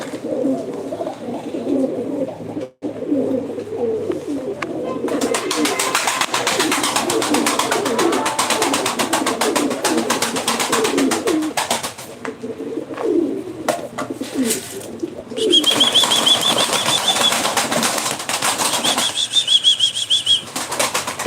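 Game pigeons at a live bird auction in Ankara flap their wings in repeated loud bursts and coo steadily throughout, close up, with no talking.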